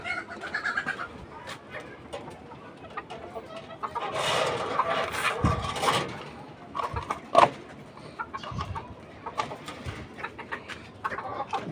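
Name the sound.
chickens clucking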